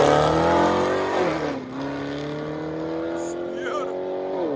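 Chevy Camaro ZL1 with straight pipe exhaust revving loudly up close, a deep rumbling engine note that dips and then holds a steady high drone, with a voice speaking briefly over it.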